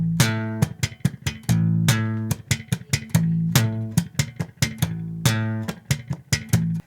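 Slap bass repeats one short measure over and over, punchy thumb slaps and pops with sustained low notes between them, forming a tight, funky loop heard up close with no talk.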